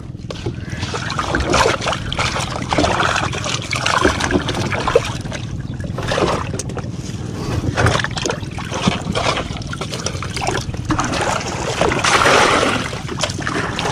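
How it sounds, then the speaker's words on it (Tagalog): Fresh water pouring and splashing into a tilapia fish pond, a steady close trickling and sloshing wash that runs throughout with occasional louder surges, no talking heard. "So mga bro, magdadagdag na tayo ng panibagong tubig."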